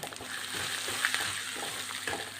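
Coconut pieces frying in a pan with chopped ginger and garlic for a chicken dish, giving a steady close sizzle with scraping stirs and occasional crackles, no voices.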